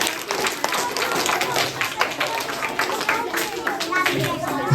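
A school Independence Day celebration audience claps for a house team announced in a competition, with scattered, uneven hand claps and a moderate crowd murmur.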